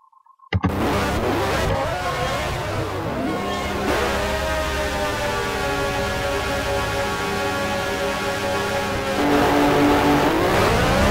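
Several 1959 Formula One cars roar off the line at the start of the Dutch Grand Prix at Zandvoort in the F1 Challenge racing game, with loud engines rising steadily in pitch and a fresh surge of revving near the end.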